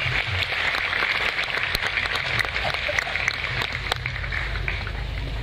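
An audience at a live outdoor gathering in Surabaya applauds, a dense, continuous wash of clapping that holds steady throughout, with faint crowd murmur underneath.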